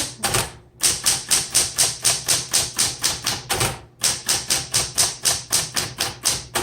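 Fast, rhythmic keystrokes on a 1960s Smith Corona Automatic 10 electric typewriter, clacking close and loud in steady runs, broken by two short pauses at the carriage returns.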